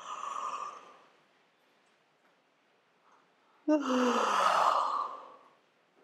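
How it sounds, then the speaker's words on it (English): A person taking a big deliberate yawn during a relaxation exercise, a long breathy exhale near the mic, preceded by a softer breath and a brief spoken word. "I invite you to try at least 3 big yawns"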